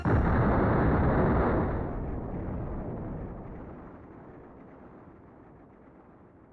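A massive explosion detonates in the video game OverBlood 2, a loud booming blast that rolls into a long rumbling decay fading over several seconds, with no speech.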